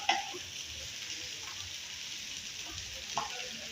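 Garlic sizzles with onions in a hot pan, a steady, fairly quiet frying hiss with a couple of light stirring clicks and scrapes, close by and without talk.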